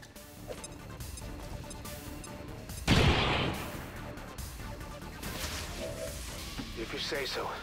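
A grenade is thrown and bursts in XCOM 2 with the Long War of the Chosen mod, a single loud blast midway over steady game background, with a voice talking through much of it.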